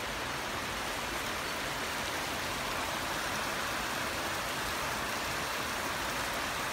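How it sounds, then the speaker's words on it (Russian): Heavy rain pours down in Antalya with lightning about, a dense, continuous hiss, steady and enveloping with no voices. "О, усилился дождь."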